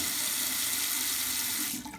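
Water from a bathroom sink tap runs in a steady, close, loud rush that eases and sputters at the very end, with no voices.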